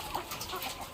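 Laying hens around two years old cluck softly in a poultry house, a few faint, scattered clucks against low background noise.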